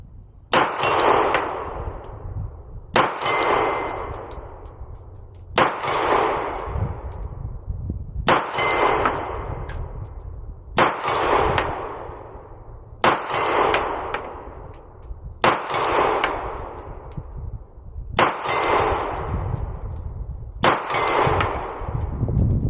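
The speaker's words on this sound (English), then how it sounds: "if I aim dead center, the majority of my shots should impact the left half of the target" A steady series of nine loud, sharp Glock pistol shots striking a metal target, each crack ringing with a metallic clang at regular intervals of a few seconds.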